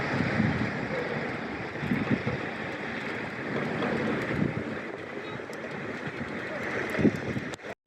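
Steady wind with snow blustering against the microphone, a broad rushing roar that holds throughout with a few stronger gusts.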